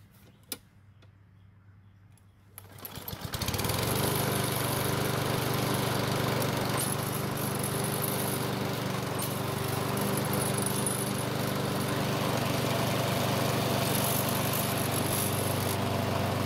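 A LawnBoy self-propelled lawn mower engine fires up after a few seconds of near quiet and settles into a loud, steady, close running drone that continues without a break.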